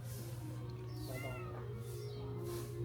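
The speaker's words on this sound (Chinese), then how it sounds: "这边还有一只在跟它相呼应的喵" Cats meowing back and forth outdoors, a few drawn-out mews heard faintly against a steady low hum.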